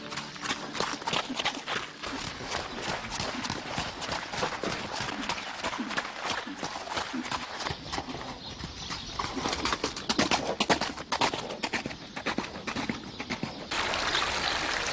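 Horses walk with steady clip-clopping hooves in old stables, the oldest in Spain, home of the Spanish horse breed, with a light trickle of water and some pigeon-like sounds in the background, filling the whole stretch.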